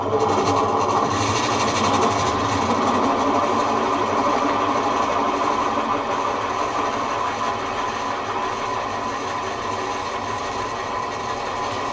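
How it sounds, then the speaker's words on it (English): A cobalt drill bit runs continuously with a steady high whine and grinding drone, loud and close, holding constant for the whole stretch with no talking. "might make a little bit of noise until the drill bit's got enough spin there to support itself"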